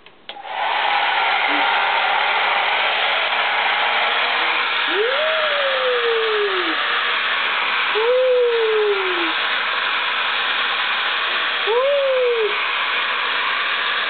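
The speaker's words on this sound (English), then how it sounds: "Ready for the blow dryer?" A hair dryer blows with a steady, loud whooshing hum throughout, while a few faint vocal sounds rise and fall underneath.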